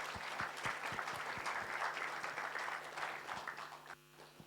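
Sustained audience applause at a closing ceremony, dense steady clapping from a sizeable crowd over a low electrical hum, tapering slightly near the end.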